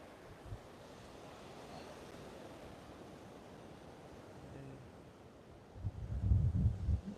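Ocean waves on a Sanibel Island beach, a steady hissing wash of surf mixed with wind buffeting the microphone, then a louder, rumbling surge as a wave rolls in near the end.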